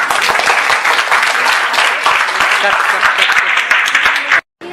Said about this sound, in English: And a great round of applause,